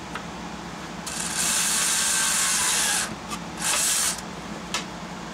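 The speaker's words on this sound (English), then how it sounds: "Now I'm drilling the large holes first" A power drill boring large holes, running in two bursts: a longer whine of about two seconds, then a shorter one. Both are loud and close against a quiet workshop background with faint clicks.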